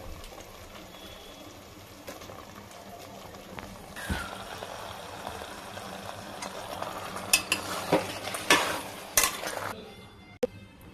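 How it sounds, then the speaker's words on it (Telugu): Chicken pieces added to fried masala for a chicken curry, with soft sizzling under scraping stirs and clinks of a spoon against the pot, growing louder and busier toward the end before a brief quiet. "ఇప్పుడు చికెన్ వేసుకున్నాం."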